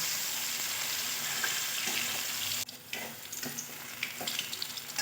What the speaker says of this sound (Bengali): এইভাবে ঠিক লাল লাল করে সব বড়াগুলো ভেজে নেবে